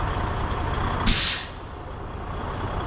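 Truck air brakes releasing during a highway patrol inspection at a shop, one sharp loud hiss of escaping air lasting under half a second over a steady idling engine rumble.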